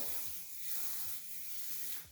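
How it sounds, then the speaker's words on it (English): Hairspray for holding hair is sprayed in a steady hissing burst, loud and close, lasting about two seconds with no talk. "I'm going to use the holding spray."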